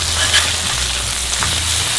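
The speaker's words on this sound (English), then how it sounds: "Time to flip the patties." Beef burger patties sizzle steadily on a Blackstone griddle as they are flipped, a continuous mid-loud frying hiss with no talking.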